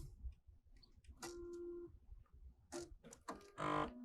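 An embroidery machine stitches a placement line for a toy car carrier project, giving faint, intermittent bursts of mechanical whirring and clicking separated by brief pauses.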